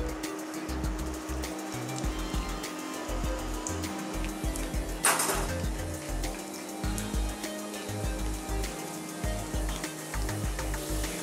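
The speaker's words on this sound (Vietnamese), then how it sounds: "bây giờ chúng ta sẽ chiên lần 2 các cụ mợ nhá." Potato fries crackle and sizzle in hot oil during their second frying, a dense steady bubbling with scattered pops and one brief louder burst, close and without talk.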